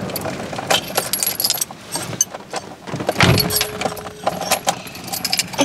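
Keys jangle and a Range Rover Classic engine is cranked in an attempt to start it, with a brief surge of churning and a sustained tone midway, amid clatter and noise close by.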